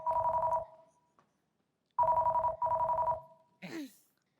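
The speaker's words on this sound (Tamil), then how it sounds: "அடுத்தா போன் அடிக்குது" A telephone rings indoors in two-tone electronic bursts, one short burst, a pause, then two more in quick succession, loud and close, followed by a brief rising chirp at the end.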